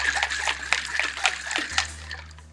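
Acorn squash seeds and stringy pulp shaken with water in a jar, rapid rhythmic sloshing and splashing in quick bursts, close and moderately loud, fading at the end.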